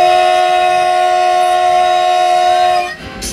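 A train whistle blows at a railway level crossing, one loud, steady, sustained tone held for nearly three seconds before cutting off abruptly, with no talking.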